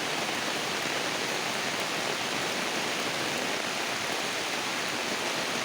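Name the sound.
heavy rain falling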